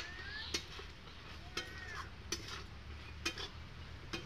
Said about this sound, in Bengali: নাড়ি চাড়ে নিচ্ছি ভালোভাবে